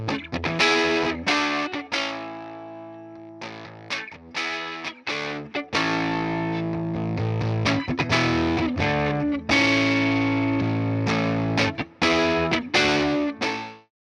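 An electric guitar with a driven, effected tone, shaped by impedance, plays a continuous phrase of picked notes and ringing chords, loud and close, with no talking.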